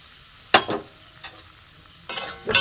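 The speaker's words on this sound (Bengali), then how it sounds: "সুজিটা আমি ভেজে নেব।" Semolina being stirred in ghee in a wok, with a few scraping strokes of a spoon against the metal over a quiet, low sizzle, and no one speaking.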